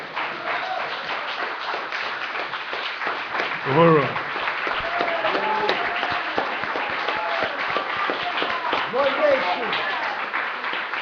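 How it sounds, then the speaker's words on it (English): An audience at a community forum on prisons and the drug war applauds Chairman Omali Yeshitela, steady clapping running the whole stretch with a voice calling out briefly over it and talk mixed in. "Please join me in giving a big round of applause to Chairman Omali Yeshitela."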